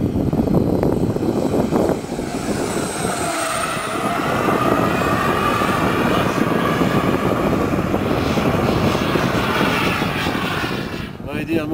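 A loud, steady electric whine from the motor of a large 11 kg Rafale B01 model jet with 12 kg of thrust runs continuously, with a brief rougher burst near the end.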